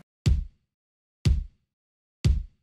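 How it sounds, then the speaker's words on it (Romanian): A kick drum loop in a music production, three punchy deep thumps evenly spaced about a second apart, each decaying quickly into silence. "am început cu niște kick-uri care umplu efectiv fiecare spațiu ritmic"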